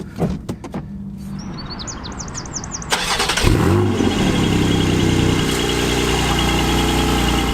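A Porsche car engine cranks and fires to life, settling into a steady, fairly loud idle close by.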